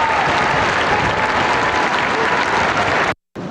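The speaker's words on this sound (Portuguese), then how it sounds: "a aparição do Papa durante a cerimônia alegrou milhares de fiéis que festejaram a chegada do pontífice com aplausos e saudações" Dense crowd of worshippers applauding the Pope's arrival at an Easter Mass ceremony, steady loud clapping from thousands filling the space, briefly cut out near the end.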